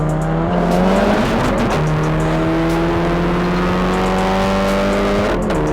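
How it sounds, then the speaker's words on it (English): A Golf 7R with a modern 2-litre four-cylinder and a turbocharged 2-litre four-cylinder Datsun GX drag race, engines roaring loud and close at sustained high revs, pitch climbing through the gears without pause. "The modern German 2-litre 4-cylinder is going to race the Japanese 2-litre 4-cylinder from yesteryear"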